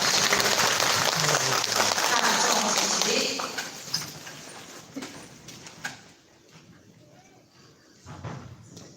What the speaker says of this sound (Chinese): 那我们以最热烈的掌声来欢迎我们的张楚老师。